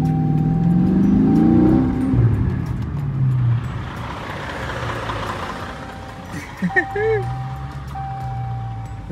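A Dodge Charger Daytona Scat Pack accelerating on the road, its engine note climbing in the opening seconds and then settling into a steady rumble while someone talks over it throughout.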